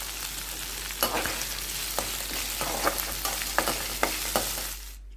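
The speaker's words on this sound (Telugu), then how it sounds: "కరివేపాకం కూడా వేసుకొని కొంచెం వేయించుకోవాలి" Steady oil sizzle with frying crackle as chilies, ginger, cashews and curry leaves fry for mango pulihora tempering, punctuated by several sharp spatula scrapes and taps, ending abruptly in near silence.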